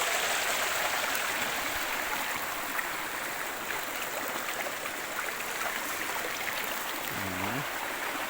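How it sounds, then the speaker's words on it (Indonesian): A natural river stream in a hidden tourist spot in Nagari Supayang flows steadily, a continuous broadband rush of water that stays loud and even throughout, with a brief low tonal hum near the end. "Dan itulah suasana sungainya yang masih alami sekali."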